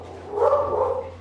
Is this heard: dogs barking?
yes